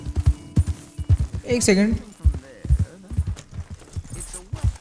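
Horse hooves clip-clopping in the open-world western game Red Dead Redemption 2, a steady rhythmic series of close, soft thuds with a short whinny-like cry midway and someone speaking briefly over it.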